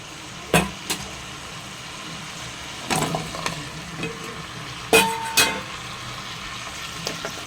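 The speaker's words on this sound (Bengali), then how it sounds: "এবারে এই তেলের মধ্যেই আমি আলুগুলোকে ফাটাফাট ভেজে নিই।" Potatoes fry in oil for a potato prawn dish, giving a low background sizzle broken by a few loud, abrupt clattering bursts, probably a spatula striking the pan; no talking.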